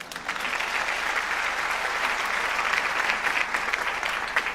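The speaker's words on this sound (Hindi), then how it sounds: "आपकी भरपूर तालियों में इन्हें स्टेज पे दावत देती हूँ" Audience at a Pakistan Independence Day Air Force show applauding to welcome a guest on stage, a continuous dense round of clapping from a sizable crowd, fairly distant and steady.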